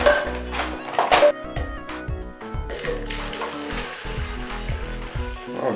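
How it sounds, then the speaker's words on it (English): Liquid plaster mixture poured into a container for an ant farm, a close glugging, bubbling pour with wet splats and irregular bursts, fairly loud and continuous. "let's try to pour it"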